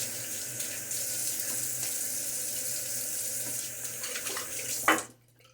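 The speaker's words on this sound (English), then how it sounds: "Splash some water on my face." Tap water runs steadily into a sink during a wet shave, with a continuous splashing hiss that ends abruptly after a short louder splash.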